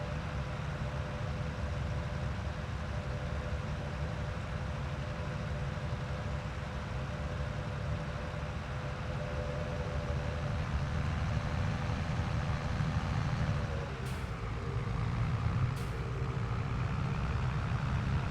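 A truck drives in the Farming Simulator 23 video game, giving a quiet, steady low engine rumble with a faint tonal hum that dips in pitch near the end, alongside two brief clicks and no talking.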